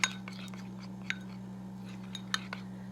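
A spoon stirs pink food coloring into a pretzel treat mixture in a bowl, making a few faint, scattered clinks and scrapes over a steady low hum.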